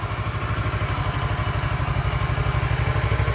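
A Kawasaki Versys 650 motorcycle, revived after sitting four years with stale fuel, idles with a steady, even low throb and light mechanical clatter, close and continuous throughout, with no starting sound and no voices.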